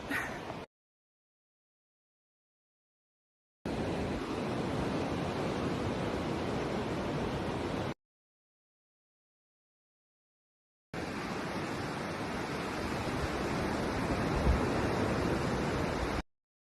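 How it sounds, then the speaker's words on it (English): Ocean surf heard from a campsite in South Australia at night, a steady broad roar of waves in two long stretches separated by silent gaps. "it was quite enough to be able to hear this lovely ocean, in which Darcy and I were out like a light."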